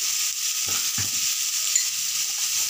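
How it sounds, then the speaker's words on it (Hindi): Mixed vegetables fry in a pan with turmeric powder and salt, giving a steady, close sizzle with a couple of soft stirring scrapes and no talk. "इसे हल्का सा भून रहे हैं।"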